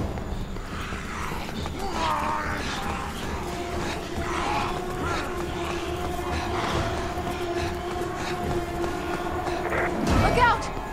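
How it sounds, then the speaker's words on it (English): An approaching train in Resident Evil 6 rumbles and clatters steadily, building slightly in loudness toward the end amid a game soundscape, with a sharp burst near the close. "Look out! Train!"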